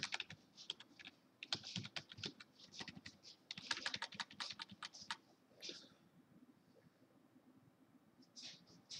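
Someone types a password on a computer keyboard in quick, irregular bursts of close clicking keystrokes. The typing stops near the end, with a few last taps.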